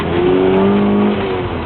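Mazda RX-7 rotary engine revving hard and close, a loud buzzing, rising and falling tone, with the hiss of its blow-off valve as the throttle lifts, no talking.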